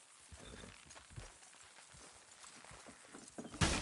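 Horse hooves clip-clopping in the game Red Dead Redemption 2, faint irregular thuds at moderate distance over ambient background, ending in a louder burst of noise.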